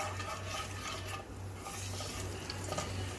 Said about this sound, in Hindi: अच्छे से 1 मिनट तक ज़रा इसको ऑयल में भून लेते हैं मसाले को।